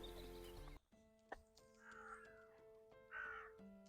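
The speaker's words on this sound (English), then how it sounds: "I think I found it, along with the noisy crows." Crows caw in a quiet graveyard, a few distinct harsh calls spaced apart against faint background hum.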